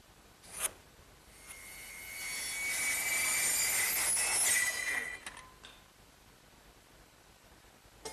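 Handsaw cutting off the end of a wooden board on a hearth-side settle project, a steady rasping stroke that builds for about four seconds and then stops, close and alone.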